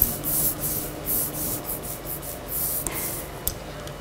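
An ink brayer rolls printmaking ink back and forth across a surface, giving a close, steady sticky rubbing hiss in repeated strokes with a couple of brief clicks, and no voices.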